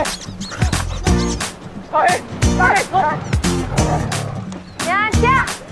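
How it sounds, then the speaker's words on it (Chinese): Several dogs bark in repeated sharp bursts at close range, mixed with yips and a whimper, while people shout commands over them. "狗狗们准备好了吗？ 走，狗狗。"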